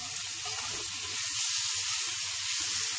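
A hamburger patty sizzles steadily in a hot frying pan, a continuous close hiss of fat crackling with no talk over it.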